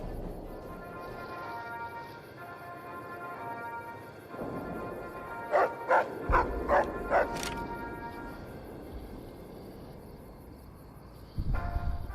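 Dogs bark in the video game Fallout New Vegas, a few short bursts clustered midway through, heard over a low game soundscape.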